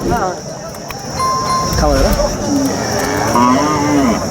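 A cow moos with long, drawn-out low calls, one after another, while people talk nearby at a cattle market.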